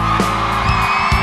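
A concert crowd at a show yells and whoops loudly together, a dense sustained roar with bursts of cheering and screams rising above it.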